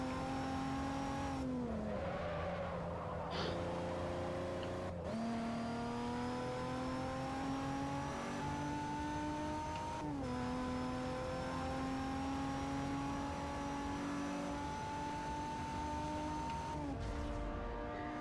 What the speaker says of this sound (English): Fucking rotary engines are disgusting. In terms of their sound.